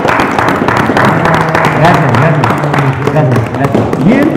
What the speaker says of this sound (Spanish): Y yo sí me paro y le doy un fuerte aplauso porque lo he visto luchar por los niños del centro